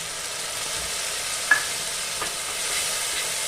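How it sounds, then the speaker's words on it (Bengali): Ground mustard paste frying in oil in a pan with salt and turmeric for a light tilapia curry, a soft continuous sizzle with an occasional spatula clink and stir. "সর্ষে বন্ধুরা বেশি ভাজবো না, নাহলে তেতো হয়ে যাবে।"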